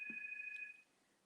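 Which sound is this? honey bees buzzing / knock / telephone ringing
telephone ringing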